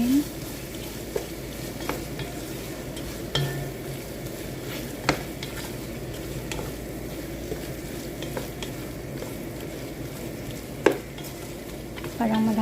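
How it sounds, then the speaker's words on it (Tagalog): Creamy red pasta sizzles gently in a pan while a utensil stirs it, with occasional faint scrapes and clinks against the metal. "Haluin."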